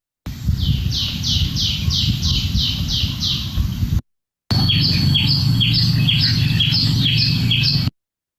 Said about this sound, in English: I heard quite a few common tailor birds, far more than I saw them.